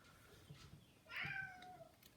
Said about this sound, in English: And my cat still wants out of my room.